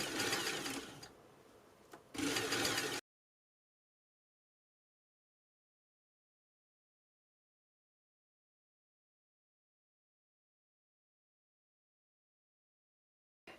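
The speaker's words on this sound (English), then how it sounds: "Next, I'm going to machine stitch this into place, and I'm going to stitch 1/2 inch from the edge." A sewing machine stitches gathered tulle onto satin half an inch from the edge, running in a steady whir for about three seconds with a brief slowdown partway through, then stopping into silence.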